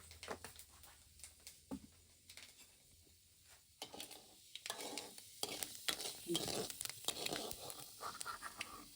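Fenugreek seeds and asafoetida fry in hot oil for a pickle, giving faint, close sizzling crackles with scraping stirs that grow busier toward the end.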